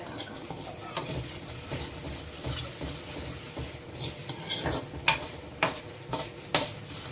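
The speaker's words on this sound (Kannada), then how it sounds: "ಈಗ ಒಂಚೂರು ಉದ್ದಿನಬೇಳೆ, ಚೆನ್ನಾಗಿ ಬಾಡಿಸ್ಕೊಳ್ಳೋಣ" Urad dal and chana dal fry in a pan for instant uppittu, a soft low sizzle running throughout, punctuated by sharp scrapes and clinks of a spoon stirring against the metal.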